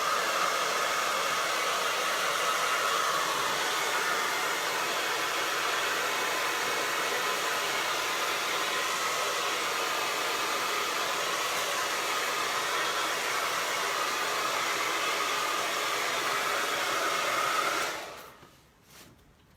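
A hair dryer blows steadily and loudly on a painted gingerbread ornament, a constant broadband whoosh running alone for about eighteen seconds before switching off and fading at the end.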